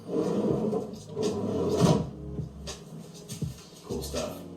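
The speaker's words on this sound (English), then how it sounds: "when you open the drawer, check out this arm here" A built-in drawer with a mechanical arm being opened, several sliding and wooden knocking sounds with soft clunks, close by, with faint speech in the background.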